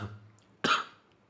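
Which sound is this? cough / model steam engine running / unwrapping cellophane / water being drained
cough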